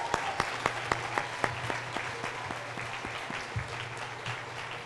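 An audience at an elementary school's 25th anniversary event claps for teachers and staff, starting with sharp, loud individual claps and swelling into dense, sustained applause.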